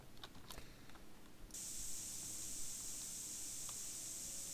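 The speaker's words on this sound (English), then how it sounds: "can I just spray on random walls?" Spray paint can spraying on a wall in GTA San Andreas, a few faint clicks and then a sudden continuous bright hiss that runs steadily to the end.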